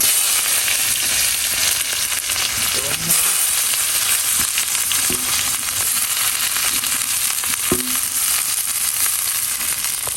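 Onion and chillies frying in hot oil with cumin, a steady close sizzle running throughout, broken by a few faint clinks and scrapes of a utensil.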